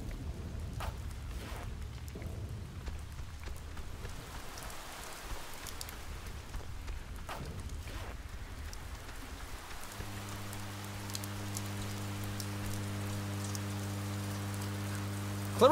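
Steady rainstorm from the Oxenfree video game, a soft continuous hiss of falling rain with a few scattered drop taps, joined midway by a low sustained hum that holds to the end.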